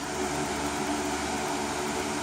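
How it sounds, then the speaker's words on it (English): An outdoor fan in a chicken run drones steadily with a broad, even whoosh and a low hum, unchanging throughout and filling the space with no voices. "Oh, the girls have a fan."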